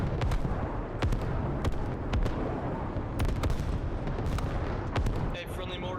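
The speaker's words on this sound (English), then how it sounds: "Friendly mortars firing down on Chernikov." Friendly mortars fire down on Chernikov in a war video game: loud, dense booms and rumbling impacts roll on continuously, close and heavy, with sharp cracks scattered through the barrage.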